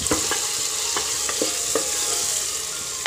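Ingredients are sautéed and stirred in a hot pan, with a steady sizzle under repeated scraping strokes of a spoon about every half second, close and fairly loud.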